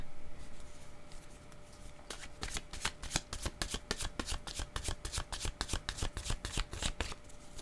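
Oracle cards are shuffled and drawn in a steady run of crisp riffling flicks, close and fairly quiet, after a short stretch of near silence with a faint steady hum.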